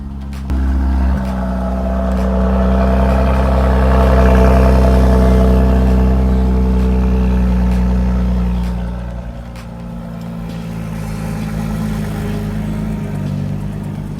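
A 2017 Bentley Bentayga W12 twin-turbo engine fires up from cold with a loud burst, then settles into a deep, steady idle. Around nine seconds the idle drops quieter and keeps a smooth, low hum.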